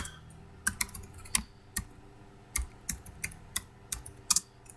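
Computer keyboard typing heard up close as irregular clusters of crisp key clicks with short pauses, alone in a quiet room.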